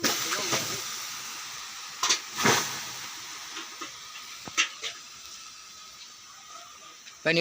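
A straw pile burns in an open farm field, giving a steady roaring hiss of flames with scattered cracks and a few louder bursts.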